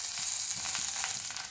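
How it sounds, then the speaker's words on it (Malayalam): Cinnamon stick, cardamom pods, cloves and bay leaves frying in hot oil, giving a dense, steady close sizzle with faint crackles. "എണ്ണ ചൂടായിട്ട് വരുമ്പോൾ നമുക്ക് ഇതിലേക്ക് ഒരു കഷ്ണം കറുകപ്പട്ട ഇട്ട് കൊടുക്കാം രണ്ട് ഏലക്കായ രണ്ട് ഗ്രാമ്പൂ"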